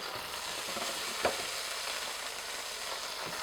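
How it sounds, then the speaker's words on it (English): Halloumi sizzles in oil in a non-stick pan, a steady close hiss with one soft clack of the cheese or utensil partway through. "So just a bit of oil in, and then we're going to get the halloumi in."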